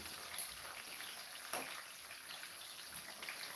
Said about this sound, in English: So I'm going to let it fry on a low heat so the potato can be able to cook properly inside.